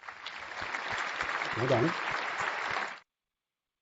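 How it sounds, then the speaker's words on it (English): Round of crowd applause as a dense, even wash of clapping lasting about three seconds, with a short spoken voice in the middle, then cutting off abruptly to silence. "Now, I'm going to give you a round of applause, all of you"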